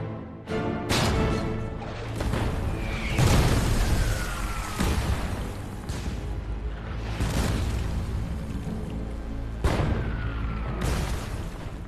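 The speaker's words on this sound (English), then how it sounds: "German artillery targets the Regina Rifles' position as they prepare to attack the Abbaye d'Ardennes" German artillery shells the Regina Rifles' position near the Abbaye d'Ardennes outside Caen: a loud, continuous battlefield roar with repeated heavy booms and bursts, some whistling incoming rounds, and crashes of debris, no talk.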